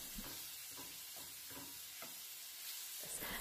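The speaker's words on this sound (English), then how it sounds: "You want to keep cooking it and searing it until that juice sort of evaporates" Meat sears in a pan with a constant hiss of sizzling fat and juices, punctuated by faint scraping stirs, steady and close throughout.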